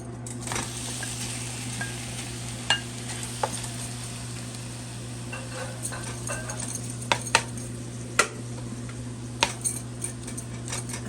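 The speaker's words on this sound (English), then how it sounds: "now we're going to add the shrimp" Shrimp sizzles in a pan while a utensil scrapes and clinks against the metal now and then, with a steady low hum underneath.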